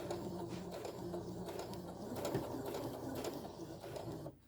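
A sewing machine stitches a small Christmas stocking, its motor humming in steady bursts with rapid needle chatter that briefly pauses and then cuts off at the end.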